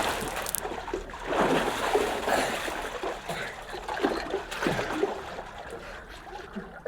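Outdoor water splashes and sloshes as someone dives in, with irregular close-up bursts of splashing and churning that rise and fall over several seconds.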